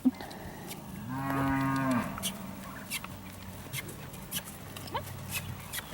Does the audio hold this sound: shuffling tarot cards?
no